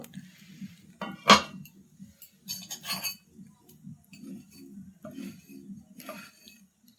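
A metal lid lifted off a pan on a griddle while cooking rice-flour patishapta pitha, giving one sharp clink followed by softer clatters and light rattles of cookware across the kitchen.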